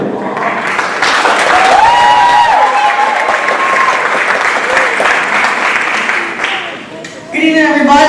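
An audience at an evening Toastmasters event breaks into loud, sustained clapping that fills the hall, with voices and whoops mixed in, fading briefly before a final swell.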